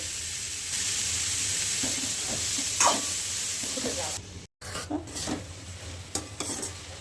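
Washed cauliflower, seasoned with turmeric and salt, fries in a pan: a soft, steady sizzle with scraping stirs and a brief break midway before the stirring resumes.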